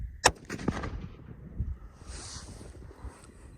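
A single loud, sharp crack from a .454 Casull revolver fired at a 50-yard range, followed by a rumbling echo that fades over windy outdoor noise.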